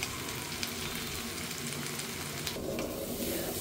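Spiced meat that has been cooked down sizzles in a pan, with water poured in toward the end that shifts the steady frying hiss into a bubbling, steamy tone, fairly quiet and without talk.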